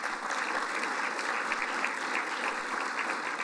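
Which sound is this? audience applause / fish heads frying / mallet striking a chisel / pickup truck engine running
audience applause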